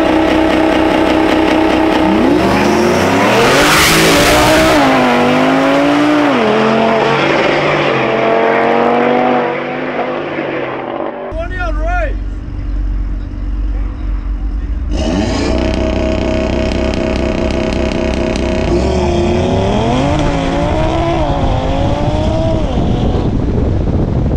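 A Shelby truck and an Audi TT RS street race in Chicago, with loud engines revving, accelerating hard through gear shifts and roaring past, cutting briefly before surging again.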